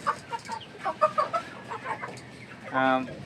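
Three-month-old Fayoumi chickens on a farm clucking in short repeated bursts close by, with a louder squawk near the end over a low background hum.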